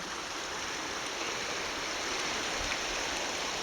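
The Weiser River at Shoepeg Bridge flows in winter, its current making a steady, even rushing hiss with no voices, unbroken from start to finish.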